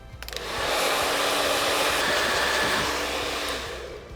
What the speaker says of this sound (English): You never want to hold the blow dryer in one place for too long